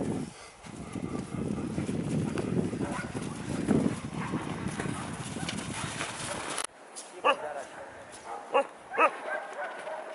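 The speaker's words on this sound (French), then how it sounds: "Nous attelons les chiens." Sled dogs being harnessed before a mountain sled ride in the Hautes-Alpes, a dense chorus of barking and whining with some movement noise, then a quieter stretch with a few sharp yelps close by.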